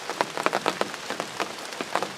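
Rain falls on a hunting blind during a turkey hunt, close and fairly loud, with irregular drops tapping the surface in uneven bursts and no voices.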